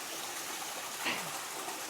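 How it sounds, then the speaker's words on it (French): A garden hose fills a pool basin at a small waterfall, giving a steady, close rush of running water that stays even throughout. "il y a un tuyau d'arrosage qui remplit le bassin"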